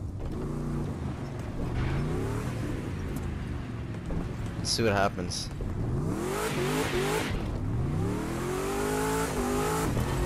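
A loud Formula One race car engine in The Crew 2 revs and roars continuously, pitch sweeping up and down, with people talking excitedly over it.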